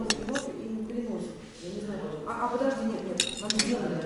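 Cutlery clinks and taps against plates at breakfast in a hotel dining room in India, the light metallic chinks coming intermittently and close, under ongoing conversation.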